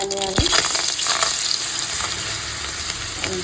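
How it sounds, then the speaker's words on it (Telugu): Cumin and mustard seeds tempering in hot oil for a fish curry, giving a bright, steady sizzle with crackling pops and a sharp clink near the start, close and alone without talk. "ఆయిల్ పోసుకున్న తర్వాత జీలకర్ర, ఆవాలు తాలింపు వేసుకున్నాను"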